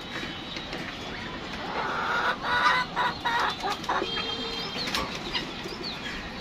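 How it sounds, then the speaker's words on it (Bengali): Chickens on a rooftop duck and chicken farm cluck nearby, with bursts of wing flapping and scattered calls. The fowl are heard alone, with the activity peaking in the middle. "এ হচ্ছে আমার মুরগিগুলা"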